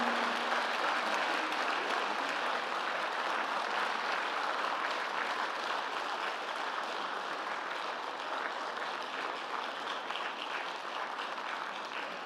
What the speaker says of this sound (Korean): 여러분 힘찬 박수로 퇴장하시는 네 분을 축하해 주시기 바랍니다